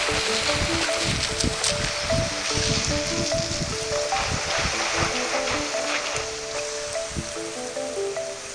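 In the video game Genshin Impact, rain pours in a steady, dense hiss and patter, loud and unbroken, with soft game music tones running underneath.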